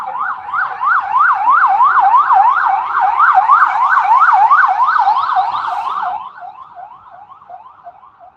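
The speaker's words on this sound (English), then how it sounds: "if the siren go by" A loud emergency siren wails in a fast rising and falling pattern on a Queensbridge city street, then drops in volume and fades as it moves away.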